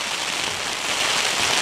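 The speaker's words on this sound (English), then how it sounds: "Properly heavy rain that's full blown in the shower." Heavy rain pounds steadily on a tent during a wild camp on Bow Fell, a loud, dense, continuous hiss of drops close overhead with no voices.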